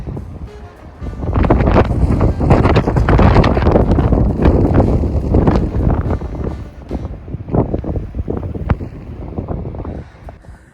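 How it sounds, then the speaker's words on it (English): Strong wind roars and buffets the microphone at the top of a long outdoor stairway climb, loud and continuous through most of the stretch, then easing into gustier, intermittent blasts near the end. "Oh, the wind is nuts."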